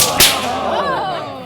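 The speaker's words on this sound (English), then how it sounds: "Alternating overhead and forward cracks at intersecting angles, delicately timed so that they do not tangle" A single sharp whip crack lands near the start during a whip show at a wedding, followed by a rising and falling swell of crowd voices reacting.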